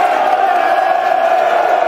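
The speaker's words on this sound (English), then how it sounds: "You can hear the applause for that tackle in their own penalty area" Millwall supporters at a home league football match against Peterborough United roar their approval of a tackle in the penalty area, a loud, continuous, dense crowd noise with no break.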